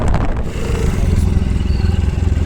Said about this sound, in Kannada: 7 ಗಂಟೆ ಬೈಕ್ ಮೇಲೆ ಇದ್ದೀವಿ, ಹೋಗ್ತಾ ಇದ್ದೀವಿ.